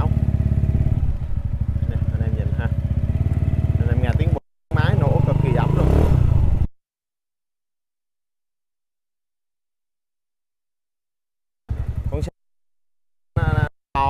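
An imported Moto Vento 150cc motorcycle engine drones loud and close on a test ride, throttling in a steady rough rumble that cuts out abruptly, with someone talking over it and brief returning bursts later.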